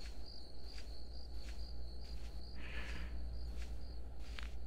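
Crickets chirping in a horror video game set on a farm at night, a steady high trill with regular pulses over low ambient hum, and no talk.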